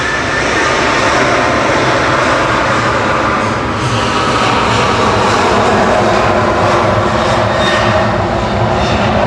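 A Ryanair airliner departs Manchester Airport for Katowice, its engines giving a loud, sustained roar that holds steady and swells slightly throughout, with no voices.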